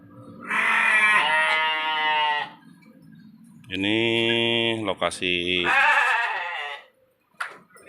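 Goats in their pen bleat loudly and close by in several long, wavering calls, one overlapping another, with a brief spoken phrase near the end.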